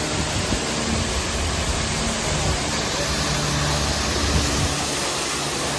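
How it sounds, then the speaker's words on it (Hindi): A strong mountain waterfall beside a trail on the Amarnath Yatra route from Chandanwadi toward Sheshnag, giving a steady, loud, broadband rush that fills the whole clip without pause. "ये नीचे से ज़ोरदार झरना बह रहा है"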